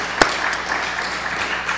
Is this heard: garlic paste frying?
no